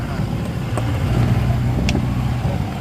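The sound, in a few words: off-road Jeep CJ500 engine as accelerator is lightly pumped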